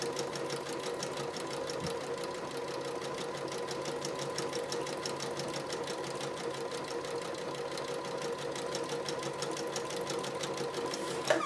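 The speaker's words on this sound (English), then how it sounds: "Same thing with a sewing machine." A Janome 3160 QDC sewing machine runs continuously at a fast, even rhythm, its rapid mechanical stitching clicks steady and close for the whole stretch.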